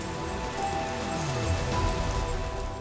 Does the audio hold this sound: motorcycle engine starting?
no